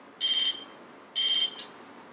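Two short electronic alarm tones sound in quick succession, each a bright steady beep lasting about a third of a second, close and clear over a quiet room background.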